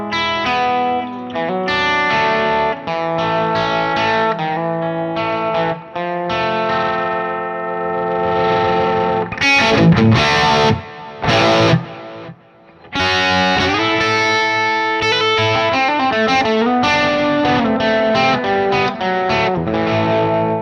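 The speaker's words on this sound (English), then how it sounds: "I'll start on the bridge pickup, just roll back and you'll hear how it cleans up." Electric guitar on the bridge pickup with the volume rolled back, played through a Metro-Plex MK II 100W amp, loud chords and riffs with a few brief pauses in a long continuous passage.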